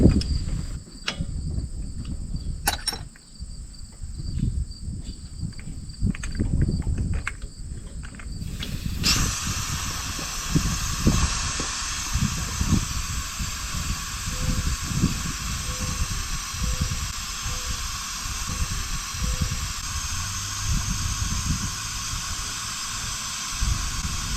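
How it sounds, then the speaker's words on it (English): Propane gas hissing steadily out of a disconnected RV tank hose with the valve open, a loud continuous broadband rush that starts abruptly partway through and holds to the end over faint clicks. "once I removed the other hose and I had the valve turned on, we had a major leak"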